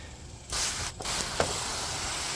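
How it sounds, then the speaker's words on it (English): A broad, steady hiss of water from a hose spraying an air filter starts abruptly, breaks off briefly, then resumes and continues evenly, close by. "you can see just spraying it with kind of light water"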